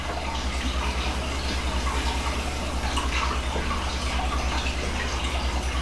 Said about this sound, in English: we're just going to put our gravy mix in now, and our rest of our liquids here, our French onion soup and our beef broth